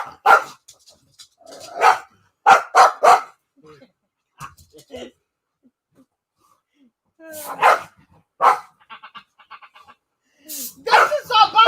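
A dog barks in several short bursts close by, mixed in with people talking and fussing over it in a home setting.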